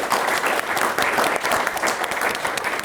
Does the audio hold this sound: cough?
no